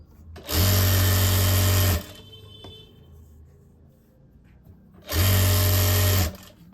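An electric sewing machine runs a half-inch seam along one leg of full-elastic leggings, two steady loud buzzing runs of about a second and a half each separated by a quiet pause.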